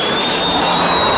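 Fixed-wing airplane on its landing approach, a loud steady jet roar with a thin high whine running through it, close and continuous with no talk over it.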